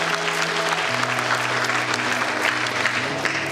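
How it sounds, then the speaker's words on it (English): Full audience applause at an African women's event, a dense, loud wash of clapping that holds steady throughout, with a low held tone underneath. "Please put your hands together for yourself once again."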